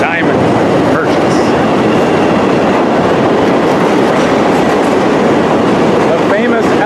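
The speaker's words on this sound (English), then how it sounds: "The famous L train." Chicago L elevated train rumbling past in the downtown Loop, a steady loud roar of wheels and rail noise with faint clatter, constant throughout, close by.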